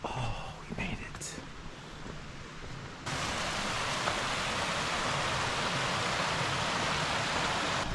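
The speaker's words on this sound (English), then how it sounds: "You can hear the river." A river flows along a hiking trail in Zion National Park, its steady broadband rush swelling to a loud, constant roar after a few seconds, with faint voices audible early on.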